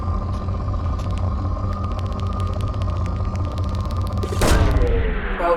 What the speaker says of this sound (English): Probe launched.